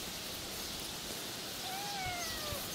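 A cat meows once in a thin, drawn-out, wavering call over steady outdoor hiss, somewhat distant and faint, with no talk.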